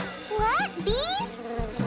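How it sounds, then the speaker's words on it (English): Cartoon bees make a series of rising, swooping electronic buzzes, close and loud, with a dull thud or two underneath. "What? Bees?"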